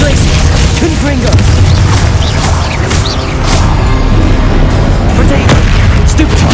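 Confringo explosion spells in the video game Hogwarts Legacy: dense, continuous booms and crashing blasts overlapping loudly with clattering combat effects, no pause between hits.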